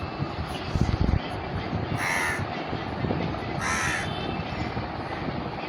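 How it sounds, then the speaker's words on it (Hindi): A crow caws twice, loud and nearby, over steady outdoor background noise with a low rumble, on a day of ancestor worship rituals at the start of Navratri in India. "एक कौवा तो पहले ही से ही आके बैठ गया।"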